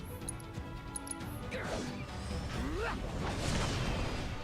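Combat in the Final Fantasy VII Rebirth video game, with a heavy smash of hitting an enemy over dense game music and effects, sweeping whooshes and steady loud background action.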